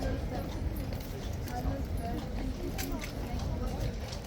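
Horse hooves clip-clop in an irregular series of sharp taps over a constant outdoor murmur of crowd and traffic noise, moderately distant, with a voice speaking across it.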